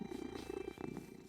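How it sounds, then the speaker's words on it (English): A cat in the animated series Steven Universe purrs softly in a quiet, rhythmic rumble, faint and close, lasting only a moment. "Are you making it purr?"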